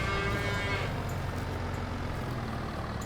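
Cattle moo in Farming Simulator 22, a loud, close, drawn-out bovine call over steady, dense farmyard background noise.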